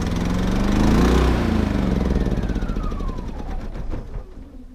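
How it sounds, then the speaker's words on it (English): A small portable generator runs steadily at an RV campsite, its loud engine drone close by with a high whining tone that sweeps downward before the sound fades out. "it's been a great little generator for us"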